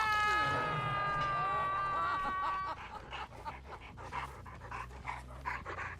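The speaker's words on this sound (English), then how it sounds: "You sound slightly, exhausted there, my pooch." A dog pants in quick, rhythmic breaths that come out of a bright sustained tone, heard faintly alone for several seconds.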